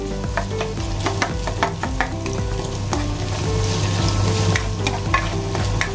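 Garlic, ginger and onion sautéing in a pan for sweet and sour tilapia escabeche, a steady close sizzle with repeated scraping stirs of a utensil, no talking.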